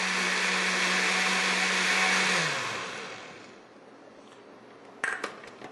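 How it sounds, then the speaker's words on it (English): A blender pureeing asparagus soup runs loud and steady, then its motor winds down and stops, followed by a quiet pause and a few sharp clatters of the jar. "we'll put it through the blender and we'll puree it"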